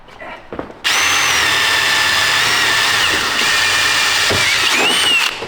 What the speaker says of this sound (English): So we're pre-drilling every 15 centimeters.